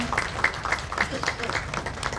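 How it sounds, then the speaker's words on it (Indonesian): Audience applause at an art exhibition opening as an honoree is invited onto the stage, a light scattered clapping heard under a speaking voice through the short stretch. "Boleh beri tepuk tangan yang meriah untuk beliau."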